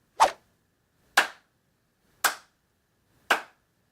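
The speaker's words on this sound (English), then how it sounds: "Is that what all that clapping was for?" Four sharp claps ring out alone, evenly spaced about a second apart, crisp and fairly loud against silence.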